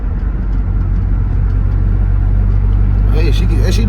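A pickup truck's engine idles with a steady low rumble and rises toward a rev near the end, close and loud, with people talking over it.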